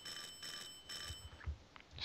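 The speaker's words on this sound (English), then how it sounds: "Keep ringing the doorbell" A doorbell rings inside the Silent Hill 4 video game, sounding as three clear, evenly spaced chimes in the first second. Quieter thumps and rustles follow, with no talking.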